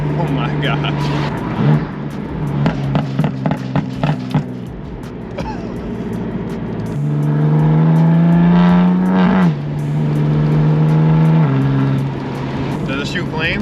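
Stage 2 tuned BMW M4 with a crackle-and-bang exhaust, engine droning and revving up and down from inside the car, with a few sharp pops, while people talk over it.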